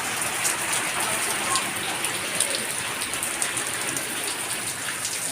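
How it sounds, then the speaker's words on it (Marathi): Rain falls outside a house in a steady, even patter with fine drops hissing on surfaces, moderately loud and continuous without pauses. "जस्ट आत्ताच आला आहे पाऊस"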